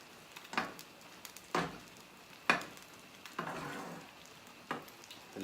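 SOS creamed beef gravy cooking in a pan on the stove, with a low sizzle under a handful of sharp, spaced stirring and scraping bursts, close and moderately quiet, with no talking.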